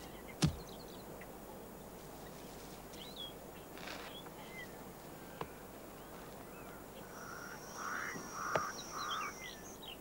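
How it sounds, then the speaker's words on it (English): A crow caws a few times in the open savanna of Etosha near a lion pride, faint and distant calls arriving late over steady insect hum and wind, with a sharp knock near the start. "The lion cub gives up. But not the crow. Crows never give up, not so long as there's the slimmest chance of a meal."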